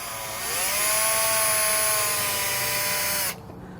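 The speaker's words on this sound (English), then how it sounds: "we'll grab our 1/8 inch drill bit and carefully drill that out." A power drill with a 1/8 inch bit whirs steadily at high speed, its pitch sagging slightly as it bites into plastic, then cuts off abruptly near the end.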